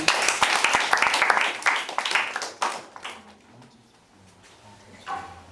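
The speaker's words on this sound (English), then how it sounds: "A round of applause for you." A round of applause for a student speaker at a school debate, brisk clapping from a small audience that lasts about three seconds and then fades out into quiet room noise with faint talk.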